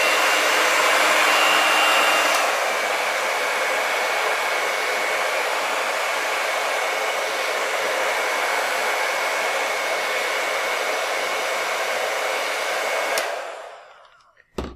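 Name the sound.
blow dryer drying paint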